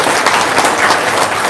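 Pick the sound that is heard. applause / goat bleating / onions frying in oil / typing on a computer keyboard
applause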